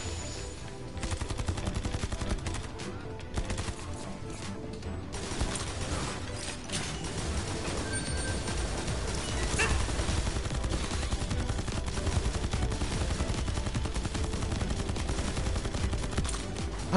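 Continuous rapid gunfire and explosions roar from Sword Art Online: Fatal Bullet, dense and loud for the whole stretch, with mechanical clanks mixed in and no clear talking.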